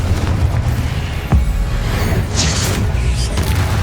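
Spell blasts from combat in Hogwarts Legacy, dense rumbling booms and whooshing bursts layered over a continuous loud roar, with a few sharper thumps standing out.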